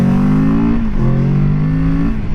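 A Kawasaki Z650 inline-two motorcycle engine revs loud and close, its pitch rising, dipping briefly and climbing again in a steady throaty drone.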